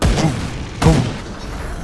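Cannon fire in the Grim Dawn fantasy RPG: three loud, deep booms in quick succession, the first two close together and the third trailing shortly after, layered over busy game ambience.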